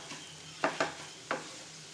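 Paneer stuffing with spices is stirred in a pan over a faint sizzle, with three quick, close spatula scrapes, the first two together and the third after a short pause.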